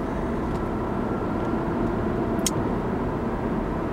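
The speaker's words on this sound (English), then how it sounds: "I can't believe this engine note" A 2014 Lexus IS 250 engine drones loudly and continuously, a dense, steady rumble with no pauses and no voices.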